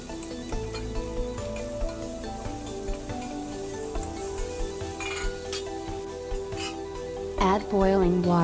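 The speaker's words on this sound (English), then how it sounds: "Add the spices and stir for 2 minutes." A utensil clinks and scrapes against a pan while spices are stirred into lamb for a Turkish tas kebab, producing intermittent light metallic taps over a low cooking hum, with someone talking nearby.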